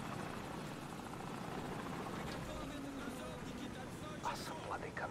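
A helicopter's rotor drone in the video game Call of Duty 4: Modern Warfare churns on steadily throughout, a dense continuous rumble, with brief voices breaking in near the end.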